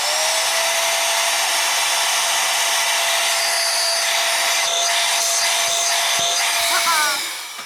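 A Parkside 12V cordless mini blower and duster runs with a loud, steady high-pitched whine and rushing air for several seconds, then begins to wind down at the end.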